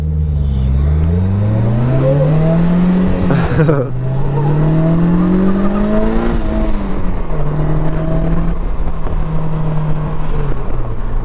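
A 2023 Polaris Slingshot SLR three-wheeler accelerates hard, its engine note rising loud and raw through the gears with a brief shift dip, then pulling strongly again in a steady, close-up roar.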